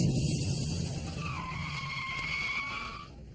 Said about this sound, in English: At the white line, I'm finally allowed to hit the brakes.